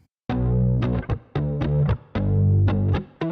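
An electric guitar played through chorus, a touch of reverb and a blown-out cabinet tone strums short, choppy chords in a syncopated pop rhythm, loud and distorted, with no talking.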